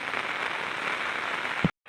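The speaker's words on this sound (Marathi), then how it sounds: "सध्या खूप सारा पाऊस आहे" Heavy rain on Torna Fort, heard as a dense, even hiss of falling water that holds steady, then cuts off abruptly after a brief knock near the end.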